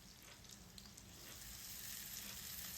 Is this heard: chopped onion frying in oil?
yes